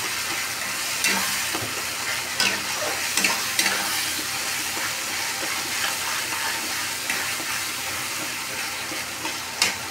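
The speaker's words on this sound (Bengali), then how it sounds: "তেলের মধ্যে দিয়ে ভাজা করছি" Tomato paste fries in hot oil with a steady, crackling sizzle, broken by occasional scrapes and stirring clicks from a utensil in the pan, close and continuous.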